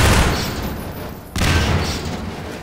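Gunfire in Half-Life 2 as objects are shot, two loud close bursts of booming blasts separated by a brief dip.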